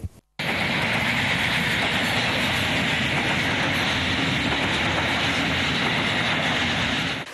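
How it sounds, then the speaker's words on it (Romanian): Freight trains loaded with military combat equipment roll across the border at Curtici, Romania, giving a loud, steady rumble and rattle of rail cars that starts suddenly and holds for several seconds with no voices. "Garniturile de tren încărcate cu tehnică de luptă au intrat în România pe la Curtici."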